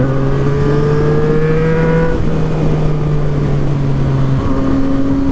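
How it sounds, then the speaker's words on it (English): Yamaha FZ-09 motorcycle fitted with an aftermarket exhaust, heard from the rider's position as it accelerates through the gears. The engine note rises steadily, drops sharply on a quick-shifted gear change near the end, then climbs again, loud and continuous with no talking. "Love that exhaust note, though."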